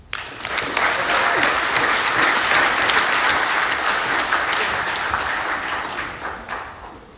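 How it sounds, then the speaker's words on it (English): Sustained audience applause in a rehearsal room at the Pasifika Fusion 2023 event, a full, even wash of many hands clapping for several seconds before tapering off, with no talk over it. "Another round of applause, ladies and gentlemen, for Ms. Denise Beale from Rangitike College."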